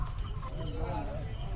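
Poultry farm chickens cluck in a crowded group as they are loaded during a company lifting, a dense close chorus of hen calls mixed with a low rumble and background voices.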